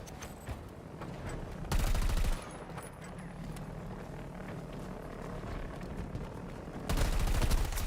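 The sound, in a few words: gunfire from video game Stranded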